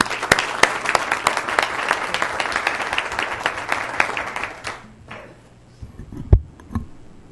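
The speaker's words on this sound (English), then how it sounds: "One more round of applause." A city council meeting audience gives a round of applause, sharp individual claps over a dense patter that stops abruptly, leaving a quiet room with a few thuds and faint shuffles.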